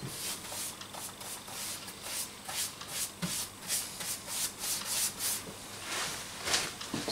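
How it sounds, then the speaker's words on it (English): Sandpaper is rubbed over paint between coats on a scratch-built Gauntlet arcade cabinet, making faint, steady back-and-forth scratchy strokes in a continuous rhythm. "I'll be sanding it down every coat."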